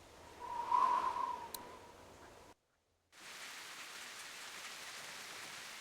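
Rain in Telltale's The Walking Dead video game makes a steady soft hiss. Early on, a faint whistling tone sits over it, then the sound cuts out briefly and resumes.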